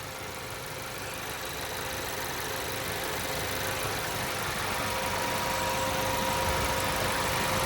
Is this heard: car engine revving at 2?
yes